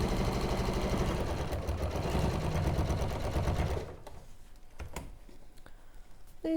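A domestic sewing machine stitching a Cathedral Window Christmas project hums in a steady, fast mechanical run for several seconds, then stops, leaving faint clicks, handling noises and quieter room sound.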